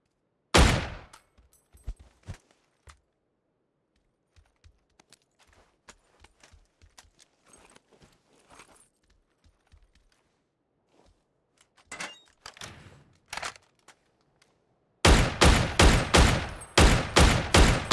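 Gunfire in PUBG: a sharp shot at the start, scattered faint distant pops through the middle, then a closer burst of shots near the end, then a loud rapid string of automatic fire.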